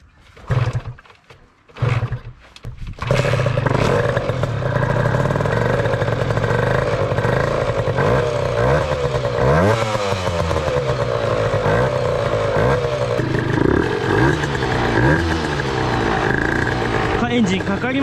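A 1987 Honda NSR50 two-stroke motorcycle engine catches after a few short bursts, then settles into a loud, steady, rattling idle that continues to the end.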